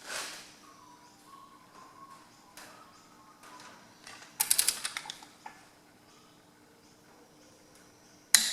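A tension wrench tightens cylinder head bolts on a Ferguson TE20 tractor. Quiet scattered mechanical creaks lead up to a short burst of sharp ratcheting clicks, followed by a final click.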